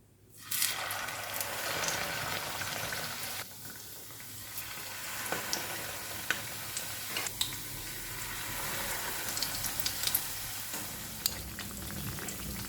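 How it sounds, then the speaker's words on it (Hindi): Potato kebabs dipped in gram flour batter deep frying in oil, a continuous close crackling sizzle with occasional sharp pops and light clinks, no talk. "यहाँ पर कबाब को हमने गोल्डन ब्राउन होने तक फ्राई करना है"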